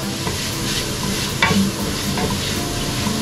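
Onion and garlic sauté in a pan for a Filipino spaghetti sauce, giving a steady, close sizzle with stirring and one brief louder clatter midway; no voices.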